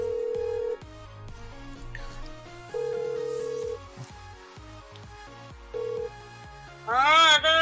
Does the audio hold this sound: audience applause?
no